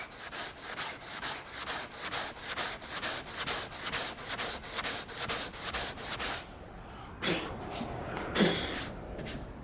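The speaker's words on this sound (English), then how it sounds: "So you keep sanding and sanding until you get rid" Rhythmic back-and-forth sanding strokes on body filler on a car panel rasp steadily and close, then slow into a few separate, scattered scrubs near the end.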